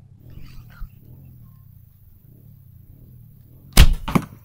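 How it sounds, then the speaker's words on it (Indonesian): An archery arrow strikes the target during practice, giving a sharp, loud impact followed by a second quick rattle, after several seconds of near quiet with low background rumble. "Anak panah sudah masuk kepada target."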